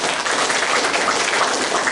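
Congregation applauding for God during an Indonesian church sermon, a full, continuous wash of clapping with no break and no speech over it.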